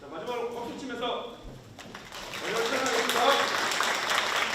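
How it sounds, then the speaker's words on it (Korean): Staff clapping during a group photo session with the Daegu mayor, applause rising after a brief stretch of talk and continuing fairly steadily under a speaking voice. "마지막으로 박수 치면서"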